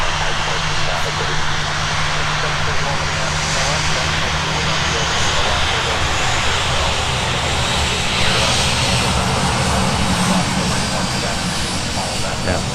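Jet airliner from Salt Lake City taxiing fast after a go-around, a steady loud engine roar with broad whine and rumble throughout, heard from an airport vantage point, with voices talking over it.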